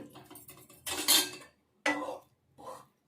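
A spoon mixes bitter gourd pickle in a non-stick pan, giving three bursts of close scraping and rattling, the first the longest, separated by short silences and with no one talking.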